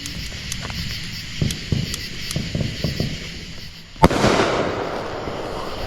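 Fireworks going off outdoors at a July 4th celebration in Texas, with a string of small crackling pops and then one loud launch bursting into a sustained rushing hiss close by.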